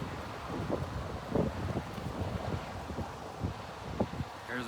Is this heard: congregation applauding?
no